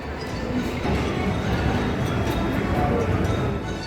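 A steady, loud rumble of a Beijing subway train running underground, constant roar with faint clatter throughout.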